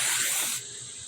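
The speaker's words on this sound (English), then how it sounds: "some mosquito spray right here that I am going to town on my butt with." Aerosol can of mosquito repellent spraying in one loud, steady hiss that cuts off abruptly about halfway, leaving a quieter hissing tail outdoors.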